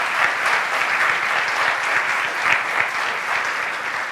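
Sustained round of applause from an audience honouring a panel of speakers at an evening discussion on British Columbia's voting system, dense steady clapping that holds at even loudness throughout, with no voices over it.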